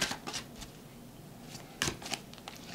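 Oracle cards shuffled by hand during a tarot reading, heard as close, crisp riffling bursts near the start and again in the middle, with quieter card rustling between and no talking.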